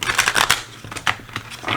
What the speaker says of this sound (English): Let me shuffle a couple more times. A couple more oracle cards.